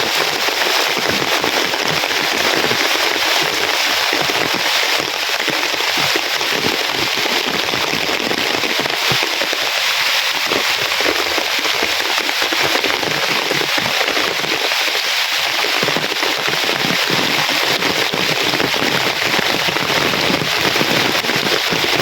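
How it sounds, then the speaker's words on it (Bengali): Heavy rain falls on a village, a loud, steady hiss of countless drops that runs unbroken for the whole stretch with no talking. "প্রচুর বৃষ্টি হইতেছে"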